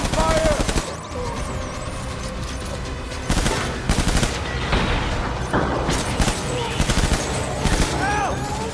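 Gunfire in Death Stranding: repeated loud bursts of automatic fire in clusters, close and punchy, with booming impacts between volleys, while voices shout over the firefight.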